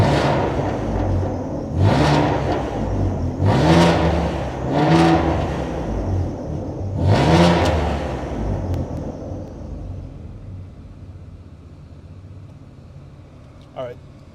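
A Ford Taurus Limited engine revs repeatedly through a catless straight-piped exhaust in deep, rumbling bursts, four or so rising pulls of throaty exhaust, then settles to a low idle that fades.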